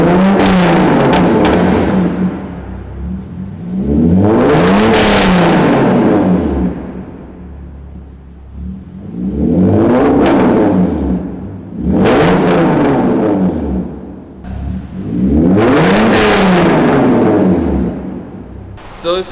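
Straight-piped 2011 Hyundai Genesis Coupe, bagged, revving hard in repeated loud bursts that rise and fall back to a rumbling idle, about four big revs close up, with no talking.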